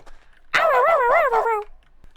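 A person imitates a dog barking aggressively with one sustained, wavering growl-like vocal bark, loud and close, standing alone between quiet moments.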